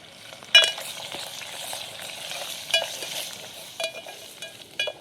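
Ginger, garlic and asafoetida frying in hot oil, a steady close sizzle broken by a few sharp utensil clinks and stirring scrapes, with no voices.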